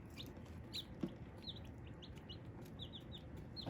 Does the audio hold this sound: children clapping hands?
no